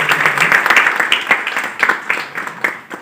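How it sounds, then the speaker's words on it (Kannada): An audience at the inauguration of a training programme for part-time legal services volunteers claps loudly, a dense burst of applause that gradually thins and tapers off. "ಜೋರಾಗಿ ಚಪ್ಪಾಳೆ ಮುಖಾಂತರ"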